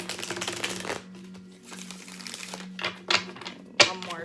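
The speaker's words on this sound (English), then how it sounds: "We're going to do a quick shuffle." Rapid riffling and flapping of a Game of Thrones tarot deck being shuffled up close, in several bursts with brief pauses and a couple of sharp snaps near the end.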